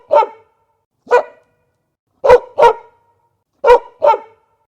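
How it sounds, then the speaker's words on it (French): A sheepdog barks in short bursts on a deserted road: a single bark, another, then two quick pairs of barks, loud and close with silence between. "c'est un chien de berger"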